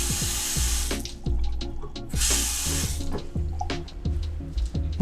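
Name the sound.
excess water being poured out of a watered plant pot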